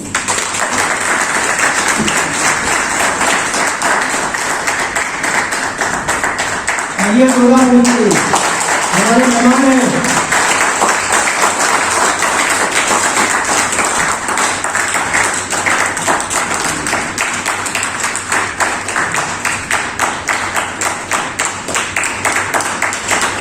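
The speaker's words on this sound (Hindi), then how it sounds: "तो आशीष जी के लिए एक बार जोरदार तालियां" Applause from a seminar audience welcoming a guest company director at a health MLM event in Satna, India, sustained crowd clapping under a loud amplified announcer who speaks briefly midway, with the hall's reverberant roar throughout.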